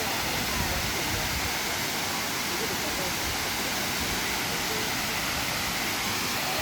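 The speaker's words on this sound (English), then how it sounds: "we're at the waterfall" Kuang Si Waterfall near Luang Prabang, a loud, dense, unbroken roar of falling water filling the scene from start to finish.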